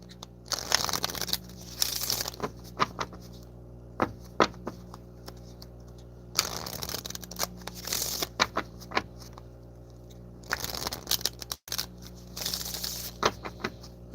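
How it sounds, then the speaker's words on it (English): Three long stretches of tarot cards being shuffled, a dense rustling, slapping shuffle close by over a steady low hum, with brief pauses between bouts. "going to shuffle these."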